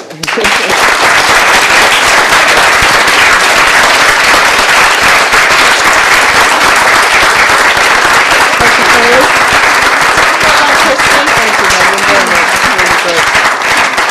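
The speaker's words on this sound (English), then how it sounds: "I hope you'll join me with applause to all the panel, and particularly to Christy" An audience at a Farm Africa annual general meeting applauds the panel after a discussion, loud sustained clapping from a large crowd that carries on evenly for the full stretch, with some voices faintly beneath it.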